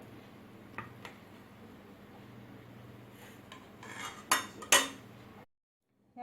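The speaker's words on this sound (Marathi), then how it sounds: "आता कोथिंबीरचा रोल गार झालाय आणि आता त्याच्या मी वड्या कापून घेणार आहे" A knife cuts a cooled, steamed kothimbir wadi (coriander) roll into thin slices, a Maharashtrian snack. Quiet faint scraping gives way to two sharper, close cutting taps near the end, then silence.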